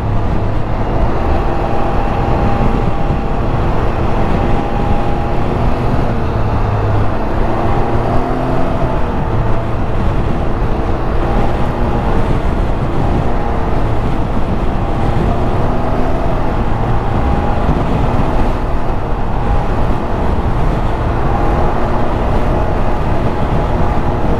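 Heavy road traffic streams past a Can-Am Ryker Sport three-wheeler riding through Austin, Texas, a steady loud rumble of engines and wind noise with no talk.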